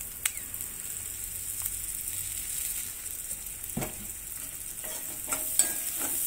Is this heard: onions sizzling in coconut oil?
yes